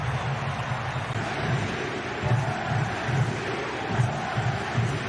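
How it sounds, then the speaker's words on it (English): Large football stadium crowd at an Inter Miami versus FC Cincinnati match sings together as a corner is taken, a broad rolling chant with rhythmic swells rising over a constant wash of distant crowd noise. "Crowd serenades Acosta as he swings in the corner"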